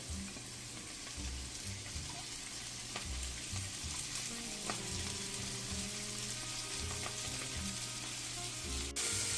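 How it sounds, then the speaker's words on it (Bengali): Papaya mash ingredients with salt and chopped coriander leaves sauté in a pan over medium heat, a steady close sizzle with occasional stirring scrapes running throughout, no voices. "একসাথে সব কিছুকে সাঁতলে নেব মাঝারি আঁচে দুই মিনিট মতো"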